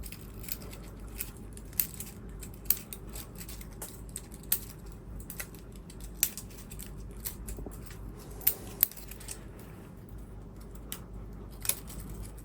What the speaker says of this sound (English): it's best just to nap it with the scissors